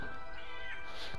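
A house cat meows close up in a short drawn-out cry over steady background noise from a game.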